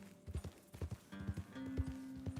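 Horse hooves clip-clop in Red Dead Redemption as a fast Missouri Fox Trotter is ridden, a steady run of close, loud hoofbeats with a brief whinny-like tone near the end.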